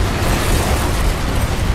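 A mall blows up in a Dead Rising Remaster video game cutscene, heard as a loud, sustained roaring blast of dense rumbling noise that fills the whole clip with no voices.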